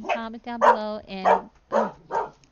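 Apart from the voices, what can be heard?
dog barking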